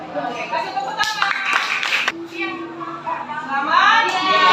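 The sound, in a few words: children clapping in a classroom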